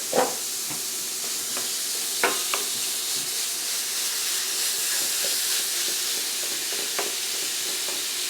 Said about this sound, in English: get the sizzle right there